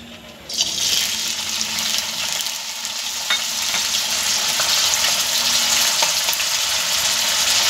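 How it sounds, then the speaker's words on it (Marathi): Drained potato pieces for Khandeshi-style sabudana khichadi fry in hot oil, a loud, dense, steady sizzle that swells up after a brief quieter start and holds throughout. "हा पहा मंडळी, छान तेल तापलेलं आहे आणि हा बटाटा सुद्धा तळतळतो आहे।"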